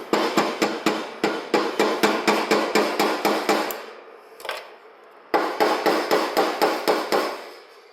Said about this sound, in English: Just going to start it with the hammer.